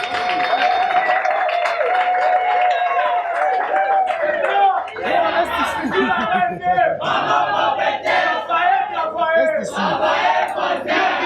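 A crowd at an anniversary celebration concert applauds and cheers loudly, with shouts, whoops and clapping mixed with overlapping voices throughout, a steady tone running under the noise.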